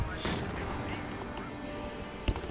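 A Sherman tank fires high-explosive artillery rounds in the Company of Heroes 2 strategy game, deep rumbling booms and distant blasts under a continuous battle din, with a sharper thump near the end.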